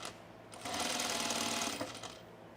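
A sewing machine double top stitches a sunblock top in one short, steady burst after a quiet start, close and moderately loud, with no one talking.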